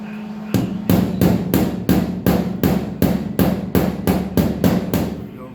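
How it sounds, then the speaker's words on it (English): A hammer knocks a rust repair patch into the steel body of a 1983 square-body truck, about fourteen loud, close, evenly spaced metallic blows in a steady rhythm. "Where's my hammer? There she is. I'm going to knock that in just a little bit."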